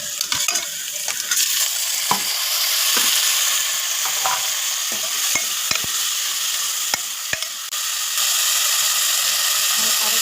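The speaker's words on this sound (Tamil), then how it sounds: "வெங்காயம் நல்லா வதங்கட்டும்." Onions and tomato sauté in a pan for a Tamil anchovy, brinjal and raw mango fish curry. A continuous hissing sizzle runs throughout, with repeated sharp spatula scrapes and clacks against the pan.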